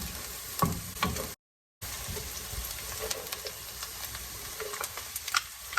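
Finely chopped garlic cloves dropped into a pan of softened onions, a steady close sizzle and crackle of frying with stirring, briefly cutting out before resuming.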